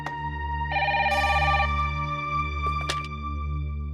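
A short electronic phone ring tone sounds once over a steady background hum, followed by a couple of faint clicks.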